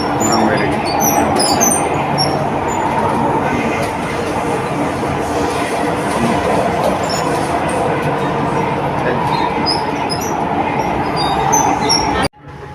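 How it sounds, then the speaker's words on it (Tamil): A Chennai metro train runs, heard from on board as a continuous loud rumble with occasional high wheel squeals and clicks. It ends with an abrupt cut near the close, and no voices are heard. "மெட்ரோ ட்ரெயினில் போயிட்டுருக்கோம்."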